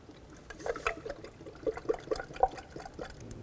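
Transmission fluid pours into a Chevrolet HHR transmission during a pan replacement, a faint, uneven trickle with soft splashing gurgles over about three seconds.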